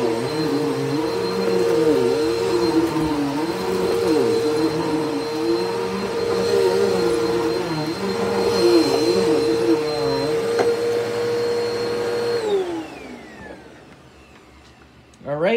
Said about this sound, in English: it's a nice quiet vacuum too